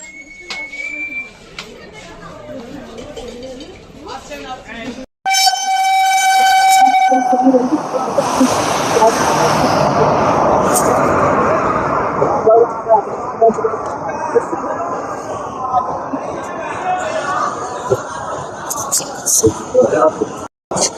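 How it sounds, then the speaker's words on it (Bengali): The Kabiguru Express 13015 arrives at a station platform. A loud, close horn blast sounds first, then a heavy, continuous rumbling roar of wheels and carriages fills the rest of the clip as the train rolls in. "তো বন্ধুরা আমাদের ট্রেন ঢুকে গেছে জামালপুর কবিগুরু এক্সপ্রেস 13015।"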